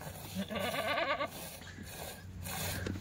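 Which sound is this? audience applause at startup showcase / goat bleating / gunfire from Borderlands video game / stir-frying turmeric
goat bleating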